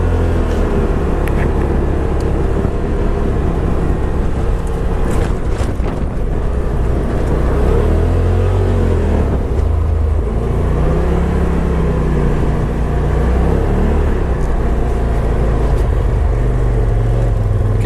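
A 2018 Polaris RZR Turbo Dynamix UTV drives slowly with its speed limited, giving a steady, loud engine rumble under heavy wind buffeting on the microphone for the whole stretch.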